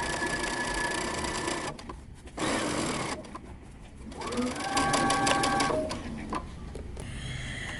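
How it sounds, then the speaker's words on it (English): A sewing machine runs in bursts, stitching down a fabric casing on a dress made from T-shirts, its rapid mechanical whirring stopping and restarting several times at close range. "We're going to continue all the way around, sewing our casing down"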